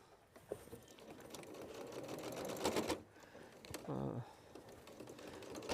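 A domestic sewing machine stitches down a seam beside a zip in steady, rapid mechanical bursts, moderately close, with brief pauses and a faint voice at times.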